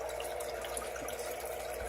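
Water running steadily from a low-flow filter in an axolotl tank, a constant soft trickling wash with no pauses, close and moderately quiet.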